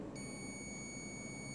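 A multimeter gives a continuous high beep during a continuity test on a switch; the quiet tone starts just after the beginning and holds steady to the end.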